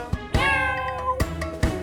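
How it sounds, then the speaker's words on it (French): A cat meows in a French children's Christmas song: a short chirp, then one long drawn-out meow and two more brief calls, close and clear with no talking. "Le petit chat, petit chat, petit chat."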